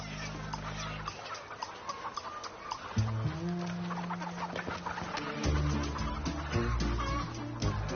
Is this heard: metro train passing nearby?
no